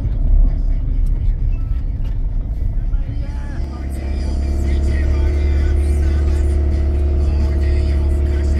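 A car accelerates on a road in Slovakia, its engine note rising into a steady, loud, low hum with cabin rumble, while a person talks in the car.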